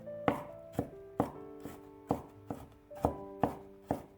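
Peeled garlic is minced with a knife on a cutting board, about nine sharp chops in a steady, slightly uneven rhythm. Each strike is close and distinct, with no talking.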